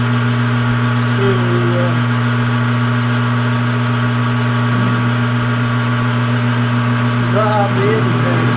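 A metal lathe in a home workshop runs steadily, turning a plate mounted on its back, with a strong constant hum and whine holding level throughout; a few brief squeaky tones surface near the end.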